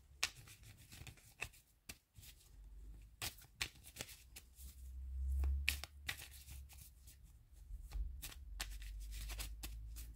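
Tarot cards being shuffled by hand, a quiet run of crisp riffling flicks and soft paper slaps at an uneven rhythm, close to the microphone with a low room hum beneath and no talking.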